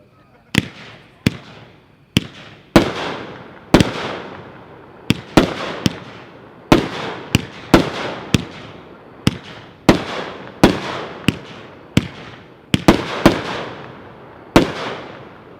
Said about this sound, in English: Number 10 is a 4-1 packed cake, 12 shots, Nishiki.